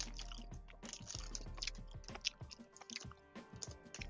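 Crunchy refrigerated Mr Beast Feastables chocolate bar chewed up close, a dense run of crisp crackling bites and wet mouth squishes with no talking.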